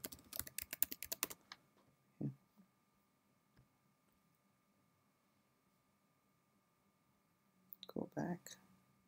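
Password being typed on a Mac keyboard: a quick run of crisp, close key clicks at the start, a lone tap in the middle, then a short final burst of keystrokes against a near-silent background.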